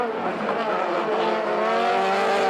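1990 Atlantic Series race cars roar along a street circuit at Trois-Rivières, a loud, close engine whine that holds a high pitch and rises slightly while the cars race through.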